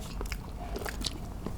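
Crunchy bites into crispy jangek, light cow skin crackers, giving a short, close crackle of biting and chewing with no talk.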